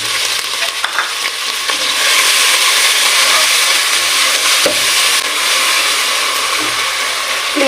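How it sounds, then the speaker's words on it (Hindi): Spices for vegetable rice sizzle loudly in a hot pan, a dense, steady frying hiss with occasional stirring scrapes and no talking. "अब मैं इसमें ऐड करूँगी स्पाइसेस।"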